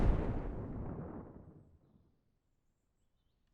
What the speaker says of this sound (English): Sniping with grenades.